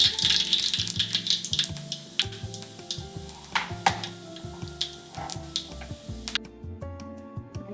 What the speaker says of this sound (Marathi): आणि थोडीशी मोहरी पण टाकतोय